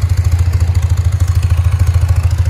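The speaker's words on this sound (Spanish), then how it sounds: "a pegarle un par de acelerones a ver qué tal responde" A BMW R80 R motorcycle's boxer engine runs close by with a steady low pulsing throb, its rhythmic beat holding fairly even with only slight swells in throttle across the short stretch, loud and without voices.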